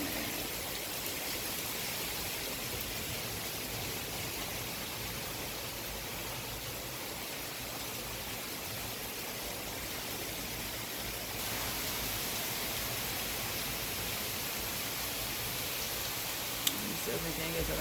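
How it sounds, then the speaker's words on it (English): Strong wind roars steadily outdoors during tropical storm Grace in Jamaica, a dense, broadband rushing that never lets up and builds slightly toward the end, close and loud over the microphone. "You know if you can hear the wind and stuff."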